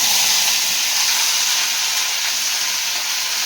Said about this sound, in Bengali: পেঁয়াজ কুচি, রসুন কুচি, ভেন্ডি, আলু কুচি দিয়ে ভাজা হচ্ছে